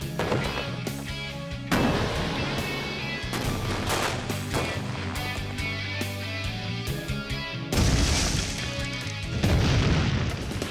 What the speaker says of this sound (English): Now that's what I call an exploding piano!